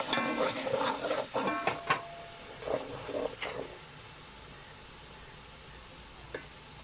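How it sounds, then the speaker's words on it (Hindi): Metal spoon stirring aloo matar pulao with potatoes and peas in a pot, a few scraping clinks and soft sizzling strokes near the start, then fading to quiet with one last faint scrape. "आहिस्ता आहिस्ता चम्मच हिलाते रहे, नीचे ना लग जाए।"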